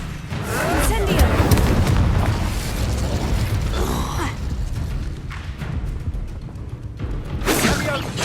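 The Incendio fire spell is cast in Hogwarts Legacy amid busy combat, with dense whooshing bursts and crackling impacts; a voice calls out over the clamor.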